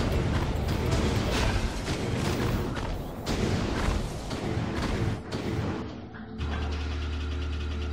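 Explosion ray weapon firing in the Ratchet & Clank video game: a dense run of loud, booming blasts and mechanical bursts over several seconds, settling into a steady low hum near the end.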